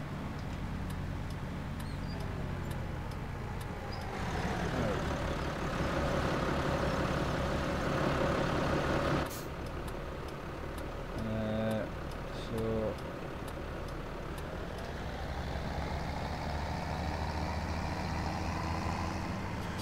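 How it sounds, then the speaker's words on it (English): A tractor in Farming Simulator 2017 drives along with a steady low engine drone, rising in load midway then easing, joined by brief mechanical clicks and tonal beeps, moderately loud with no talk. "It's quite good taking the tractor back."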